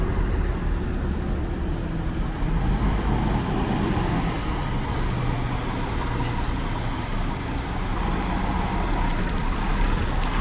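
A Rail Expresso intercity coach on the Anápolis–São Paulo route pulls out of the Ribeirão Preto bus station, its engine a steady, loud diesel drone that blends with the surrounding traffic noise of the terminal.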